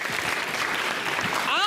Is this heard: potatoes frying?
no